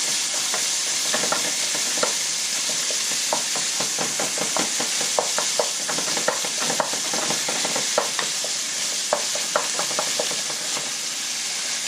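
Ground lamb fries in a pan with its fat rendering out, giving a steady, close sizzle broken by frequent scraping and clicking strokes as it is stirred.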